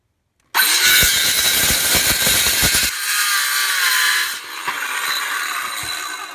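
Power saw cutting wood for a carpenter bee trap, a loud close whine starting abruptly and biting through the board, then settling into a steady run and winding down.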